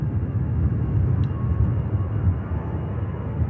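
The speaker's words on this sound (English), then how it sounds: "Here goes the EasyJet." An EasyJet airliner at Manchester Airport gives off a steady low jet rumble at fairly close range, with no voices.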